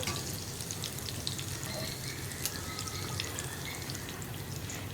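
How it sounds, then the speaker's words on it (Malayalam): Coconut oil heating in the same hot pan used for a prawn curry masala, a steady soft frying sizzle with faint crackles and drips running evenly throughout, no talking. "ഈ പാനിൽ തന്നെ ഞാൻ കുറച്ചുകൂടി വെളിച്ചെണ്ണ ചേർക്കുകയാണ്."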